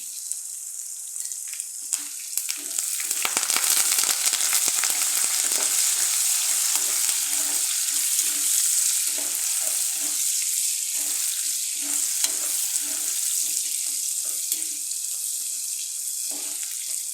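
Onion and curry leaves frying in hot oil with mustard seeds in a pan, a loud continuous hiss and crackle that swells after a quiet start, with faint stirring knocks beneath.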